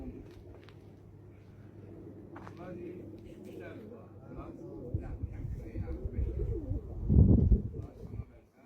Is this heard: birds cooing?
yes